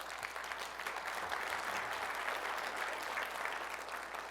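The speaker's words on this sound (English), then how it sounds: "go ahead, you can applaud" Audience applause at a book-coaching presentation, steady dense clapping throughout at a moderate, slightly distant level with no talking over it.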